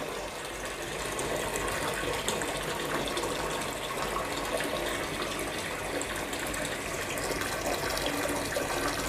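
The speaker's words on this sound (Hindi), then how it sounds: "अब पहले थोड़ा पानी चलाते हैं" Water flows steadily from the acidic and alkaline outlet pipes of a Kangen water machine by Enagic, a continuous close gushing and splashing that stays even throughout with no speech.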